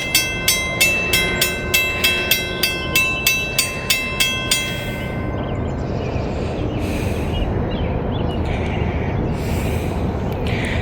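At a level crossing in Walton or Richwood, Kentucky, a crossing bell clangs in a fast, even rhythm, then a long freight train rumbles past loudly and up close, with occasional brighter metallic bursts over the steady roar.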